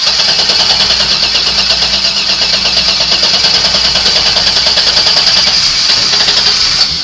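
A 2003 Chevy Silverado engine, just back from a fuel pump replacement, runs steadily and loudly through the whole stretch with a constant rough drone and no voices.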